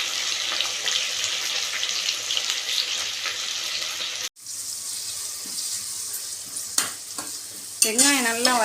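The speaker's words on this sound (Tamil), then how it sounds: "வெங்காயம் நல்லா வதக்கணும், நல்லா கலராகணும், கருக விட்டுறக்கூடாது." Onions for chicken biryani fry in a pan with a loud, steady sizzle as a spoon stirs them. The sizzle briefly cuts out midway, then resumes with a few sharper scrapes and clatters.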